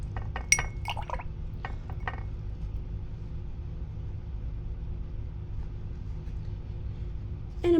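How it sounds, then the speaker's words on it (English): An acrylic paintbrush clinks against a glass water jar with a few quick taps and swishes early on, then a low steady hum follows. "I'm going to take my brush, I'm going to wash it a little bit. Give it a good rinse."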